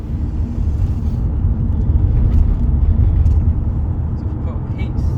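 An electric VW Beetle, the Bugplug DIY conversion, pulls at full throttle with a steady low rumble and road roar, loud and continuous, while someone talks inside the car.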